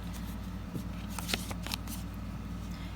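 Tarot cards are shuffled by hand, close and quiet, with soft riffling swishes and a few sharper snaps against a low steady background hum.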